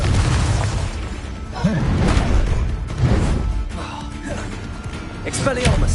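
Confringo fire-spell blasts in the wizarding game Hogwarts Legacy, repeated booming bursts during a hectic duel, loud and close, with chaotic combat noise and a voice shouting over them.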